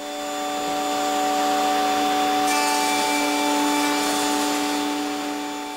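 A router cutting chamfers along the edges of wooden table legs in a workshop, a steady continuous whine with a shift in pitch partway through, close and loud with no talking.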